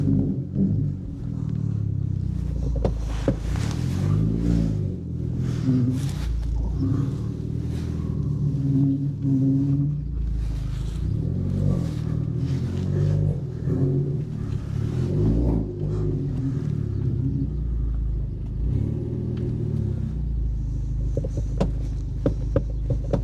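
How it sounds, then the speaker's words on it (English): An old Volkswagen Golf GTI engine, abandoned for six years, rumbles and throbs nearby as the car moves slowly, with uneven surges in pitch and occasional mechanical clicks. "the Golf does move forwards and backwards"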